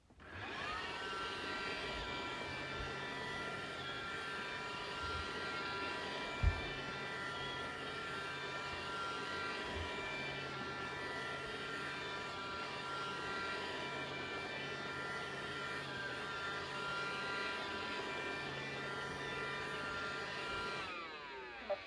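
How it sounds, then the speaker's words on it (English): Roomba robot vacuum cleaner running steadily with a continuous whirring motor hum and airflow, moderately close, one brief bump partway through and no talk. "While Roomba is cleaning, it uses an array of advanced sensors and complex patterns and movements."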